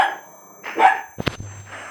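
A dog gives a short pair of sharp barks, close and fairly loud, within a brief indoor moment with little else around.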